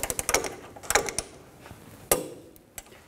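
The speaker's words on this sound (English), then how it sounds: "And torque these to 89 foot-pounds." Torque wrench tightening coil spring bolts on a Chevy Traverse, heard as a few sharp ratcheting clicks and creaks in short bursts with pauses between, close and fairly loud.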